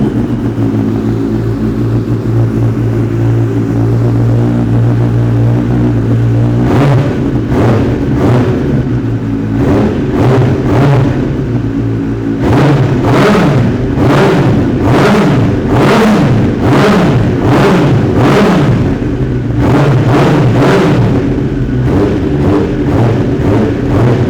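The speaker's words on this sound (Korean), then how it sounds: "아크라포비 풀 시스템의 머플러의 배기 사운드 한번 들어보고요" A 2018 Kawasaki ZX-10RR Ninja with an Akrapovic full-system exhaust idles loudly up close, then is blipped through a series of sharp, rapid throttle revs that rise and drop back repeatedly.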